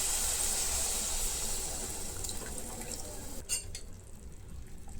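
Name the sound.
pouring tamarind water into a pan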